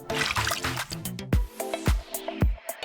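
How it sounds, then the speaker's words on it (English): Close, wet splashes of water on a face while washing, several distinct splashing bursts with dripping and trickling between them, no voices. "And then I wash it off."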